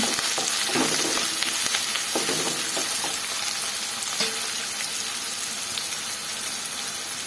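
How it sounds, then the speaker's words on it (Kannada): Steady, close sizzling of onions frying in hot tempering oil for a gojju, with occasional stirring scrapes over a constant crackling hiss. "ಒಗ್ಗರಣೆ ಫ್ರೈ, ಈರುಳ್ಳಿ ಎಲ್ಲ ಫ್ರೈ ಆಗ್ತಾ ಇದೆ"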